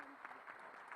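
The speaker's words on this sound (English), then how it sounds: "let's give a round of applause" Audience clapping at the SEMICON India 2025 semiconductor industry conference, a steady, fairly faint patter of applause from a hall crowd lasting the whole moment.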